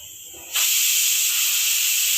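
A pressure cooker whistle bursts in loud at about half a second and holds as a steady, piercing steam hiss, while egg biryani is being prepared in a home kitchen.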